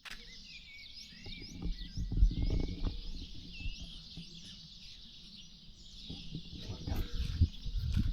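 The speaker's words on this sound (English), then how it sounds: "silence, absolute silence, apart from all these birds." Birds calling at night beside a parked motorhome on the Costa Blanca: a thin, continuous stream of faint high chirps and trills over a low rumble, fairly distant.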